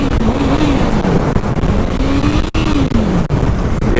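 A car passes close to a motorcyclist on a public road, its engine note rising and falling against steady loud wind and road noise from the moving bike.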